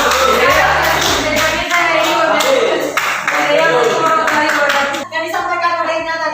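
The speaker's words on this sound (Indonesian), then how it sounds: "Tepuk tangan tuh Ina dulu." A classroom of students claps for a classmate in a loud, brisk burst of hand clapping, overlapped throughout by voices.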